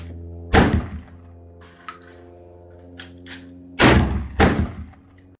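A shotgun loaded with training rounds fires several loud, sharp blasts. Two come early, and a close pair follows later with quiet gaps between them, fired outdoors by a boy learning to shoot for bear defense.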